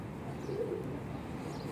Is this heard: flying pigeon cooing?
yes